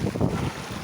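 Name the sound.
strong wind at sea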